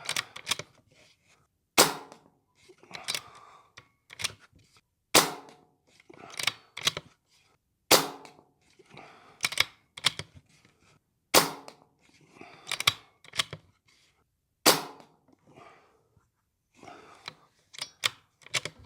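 Brocock Bantam Sniper HR .25 air rifle, fresh out of the box, fired repeatedly at a target: sharp, loud, isolated cracks spaced a few seconds apart, with fainter clicks and handling noises in between.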